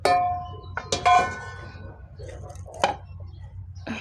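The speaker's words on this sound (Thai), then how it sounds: "ตำใส่ครกเข้าเลย" Sharp wooden knocks and clacks of vegetables being pounded in a mortar for a Lao frog curve dish, a few irregular hits spaced apart, with a voice talking in between.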